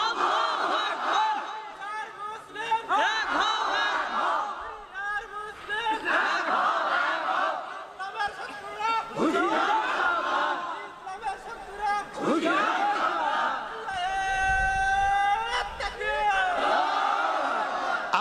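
A large crowd at an Islamic mahfil gathering shouts a takbir slogan in loud, repeated call-and-response bursts. Massed voices rise and fall in a steady rhythm, with some laughter and chatter between the chants.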